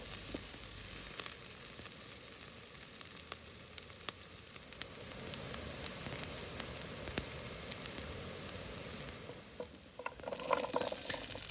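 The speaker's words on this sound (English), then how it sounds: "add your finely chopped onions, and then fry them until they start to lose color" Finely chopped onions fry in vegetable oil in a pan with a constant crackling sizzle, scattered pops and occasional stirring scrapes, steady and close throughout.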